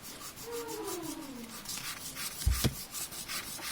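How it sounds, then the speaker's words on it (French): A special eraser rubs out pencil lines on paper. Quick, soft scrubbing strokes repeat close by, with one brief knock partway through. "il me faut ma gomme spéciale pour gommer le crayon bois qui est là"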